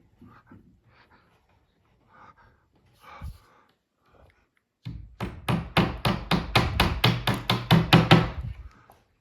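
Picture hanger being hammered into a hollow wall: after a few faint taps and handling sounds, about a dozen sharp rapid hammer strikes ring out close and loud in a steady, accelerating rhythm.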